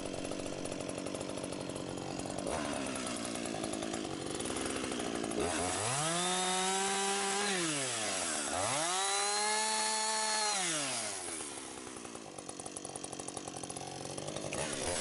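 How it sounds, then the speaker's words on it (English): A chainsaw finishing the felling cut on a leaning tree still attached to its trunk. The engine drones throughout and revs up and down twice in the middle with rising and falling pitch, close and loud, with no talking. "This tree is still attached to the trunk and needs another cut to finish the felling."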